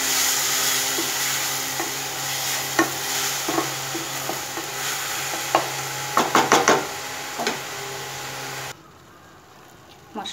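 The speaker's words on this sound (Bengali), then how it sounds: "এবার মশলাটা সুন্দর করে কষিয়ে নেব" Onion, garlic and ginger paste masala sautéed in a pan for restaurant-style chana masala, a steady sizzle with scattered clicks of a spoon scraping the pan, then an abrupt drop to near silence toward the end.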